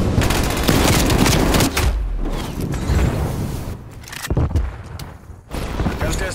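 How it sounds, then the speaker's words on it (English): Loud frag grenade blast in the Call of Duty Black Ops Cold War Hardpoint mode, a dense burst of booms and rumbling gunfire filling the clip with short dips, close and heavy, with a voice callout mixed in. "Incoming frag."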